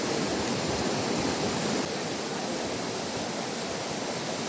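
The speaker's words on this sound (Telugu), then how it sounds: "వాటర్ ఫాల్ చూస్తున్నారా ఎలా ఉందో, పెద్దగా ఉంది వాటర్ ఫాల్." A large waterfall pours through a tunnel beneath a bridge at Valparai hill station, giving a loud, unbroken broadband roar with no talk and no pauses.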